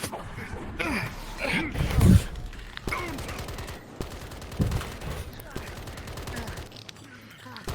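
Bursts of video-game gunfire, rapid rattling volleys broken by louder individual blasts, alternating with pauses, with voices talking intermittently.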